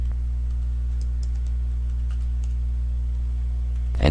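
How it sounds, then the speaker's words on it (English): Password keys tapped on a computer keyboard in faint, sparse clicks over a steady low hum from the machine, with a slightly louder click right at the end; no talking. "So we'll just type in a password here,"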